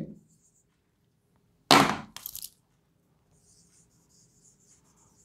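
Writing on a surface, a loud burst of close scratching strokes lasting under a second, a short pause, then a second briefer scratch, surrounded by near silence.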